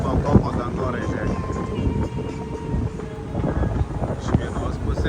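Strong wind blows at a 52nd-floor skyscraper in Bangkok, a steady, loud rumbling roar buffeting the microphone with no pause.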